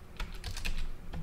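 Quick keystrokes on a computer keyboard used through a keyboard emulator, a brief close run of light irregular clicks.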